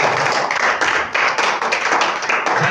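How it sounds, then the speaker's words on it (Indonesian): Congregation clapping during a church sermon, a dense, loud burst of many hands with no talking over it. "Tepuk tangan yang paling mulia."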